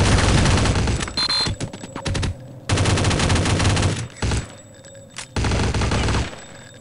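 Rapid gunfire in the video game Counter-Strike: Condition Zero, loud repeated bursts broken by short pauses, close and dominant.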